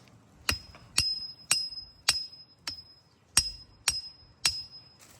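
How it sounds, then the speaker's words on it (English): Sharp metallic hammer strikes ring out one by one while building a fence on a steep hill, about eight blows at a steady, slightly uneven pace, each with a bright clinking ring. "Trying to hammer and record at the same time."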